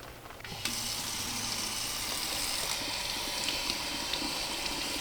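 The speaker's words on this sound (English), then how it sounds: "Just gonna dump out the water. And then rinse them again." Garden salad greens rinsed under running water, which starts abruptly and then gushes steadily into a sink or bowl, close and continuous, with no voices.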